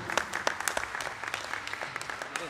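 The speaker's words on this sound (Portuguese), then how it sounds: "uma salva de palmas para ele." Small crowd at a Portuguese pool tournament prize-giving applauding the winner, irregular close claps from a modest group, steady and moderately loud throughout.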